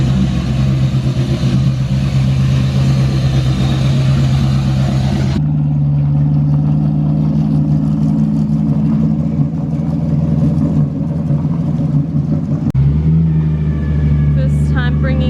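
Cars being driven into a backyard shed, a steady, close engine drone that shifts in pitch partway through, with a low rumble running throughout.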